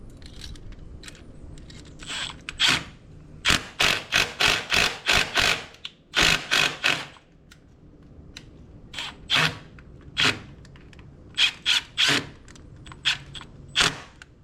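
Stainless steel screws driven into a boat hull to test fit a fishing transducer, sounding as a series of short, sharp mechanical bursts of whirring and clicking, some quick and clustered and others spaced apart, with no voices.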